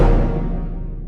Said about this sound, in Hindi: और साथ में एक ब्रास का हिट भी यूज हुआ है जो ऐसा साउंड करता